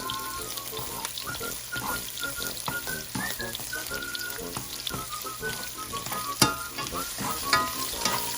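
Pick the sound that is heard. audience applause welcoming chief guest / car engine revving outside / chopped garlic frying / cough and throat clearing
chopped garlic frying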